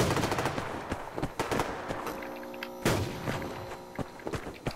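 Automatic rifle fire in the online shooter Survarium: loud, close bursts of rapid shots with sharp cracks, broken by brief pauses and followed by trailing rattles and impacts.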